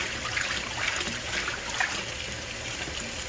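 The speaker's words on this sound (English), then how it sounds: "Mix it in the water." Water swishes and trickles steadily as soap is mixed into it for washing muscadines, close and continuous with small splashes and no talking.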